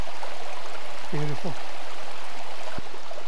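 A waterfall in Cwm Idwal, Ogwen Valley, lined with heather, gives a steady outdoor rushing wash throughout, with a man's brief spoken remark over it.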